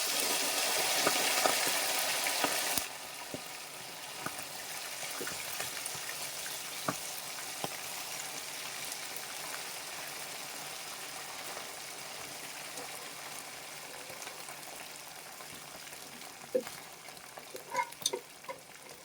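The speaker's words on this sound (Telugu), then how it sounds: "ఇప్పుడు చికెన్ వేసేద్దాం. ఇందులో బాగా డీప్ ఫ్రై చేద్దాం." Chicken pieces deep frying in hot oil, a steady bubbling sizzle that opens with a louder hiss as the pieces go in, then settles into a constant crackle with occasional pops and utensil clinks toward the end.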